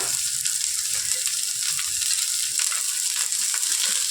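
Sliced onion and green chilli fry in a pan for tomato rice made with varagu (kodo millet), giving a steady bright sizzle that stays continuous and close throughout, with no talking.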